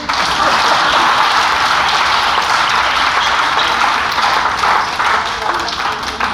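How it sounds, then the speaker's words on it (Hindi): An audience claps after a Hindi ghazal recital at a poetry gathering, a dense, steady wash of applause that stays loud throughout and eases slightly toward the end. "गजल खत्म हो गई, ताली बजाइए।"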